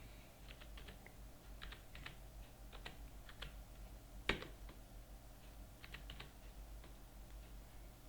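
Faint, quick keystrokes tap on a computer keyboard in short irregular bursts over a low steady hum, with one sharper louder click partway through.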